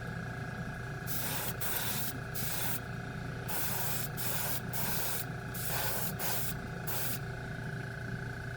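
An airbrush spraying chrome paint onto a white spoon gives a series of short, sharp hissing bursts, about ten of them in an uneven rhythm, over a constant low hum from the compressor.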